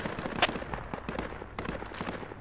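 Gunfire in the military video game Project Reality on the Sbeneh map: a scattered series of sharp, fairly faint shots crack at irregular intervals, one slightly stronger, with no speech.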